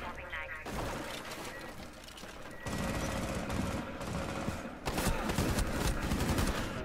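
Sustained automatic gunfire in Rainbow Six Siege, loud continuous rattling volleys that stop briefly and then resume with fresh bursts, no talk.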